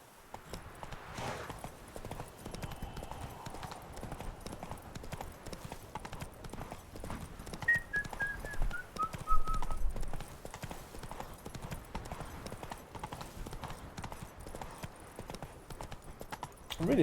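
Roach the horse trots with a steady clip-clop of hooves through the Witcher 3 game world, moderately close, under a soft ambient backdrop and a brief whinny-like tone midway.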